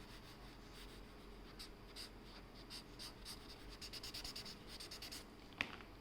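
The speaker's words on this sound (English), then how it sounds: "scrub that graphite out." Graphite pencil scrubbed back and forth on paper while shading a portrait's eye, a soft rapid rasping that comes in repeated strokes, steady and close, with a brief sharper tap near the end.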